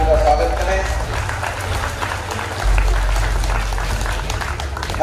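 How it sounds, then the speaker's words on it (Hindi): A crowd at a district harvest festival event in Harda applauds steadily to welcome a local legislator, the clapping dense and continuous beneath a loud PA system hum and some background voices. "जोरदार ताली बजा करके आप उनका स्वागत करें।"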